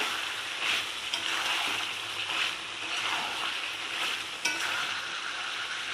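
Tomato sizzling and frying in a pan with green chillies for South Indian style chicken kosha with curry leaves and coconut, a steady close hiss with soft stirring swells throughout.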